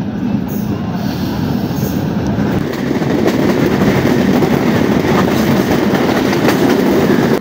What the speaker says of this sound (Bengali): কিছুক্ষণের মধ্যেই আমাদের কাঙ্ক্ষিত ট্রেন চলে আসবে